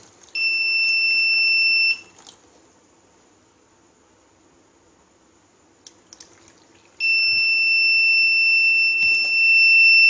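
A shrill electronic buzzer alarm on a railway bridge safety model sounds in two long continuous bursts, separated by a quiet pause with faint background noise.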